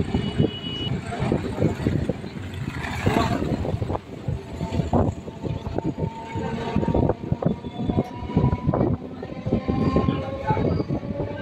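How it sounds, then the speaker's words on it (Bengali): A local train rumbles and clatters steadily on the tracks leaving Sodepur station, with rhythmic wheel knocks and some talk mixed faintly into the noise. "ট্রেন এখন সোদপুর স্টেশন ছেড়ে বেরিয়ে যাচ্ছে"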